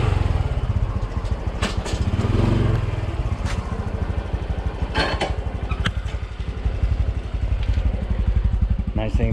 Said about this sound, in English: I can bring my bike out.